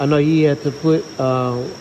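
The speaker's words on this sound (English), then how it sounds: "Y'all probably gonna hear the crickets in the background." Crickets chirp in a steady, continuous high trill in the background while someone talks nearby during brake work on a classic Chevrolet.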